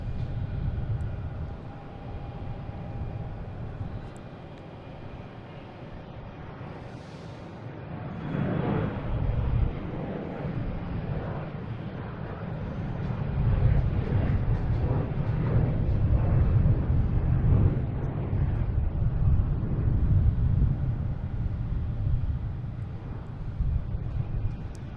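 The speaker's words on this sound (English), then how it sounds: "But now we have a Delta flight 5666 heading to Reagan." A Delta airliner departing Boston Logan International Airport roars in a broad, rumbling wash from a distance, swelling gradually and holding steady as it takes off.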